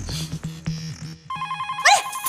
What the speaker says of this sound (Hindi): टप्पू का फोन आया